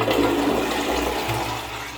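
A toilet in a beach house restroom in the Philippines flushes with a loud, steady rush of water. The sound is close and continuous throughout and fades slightly at the end.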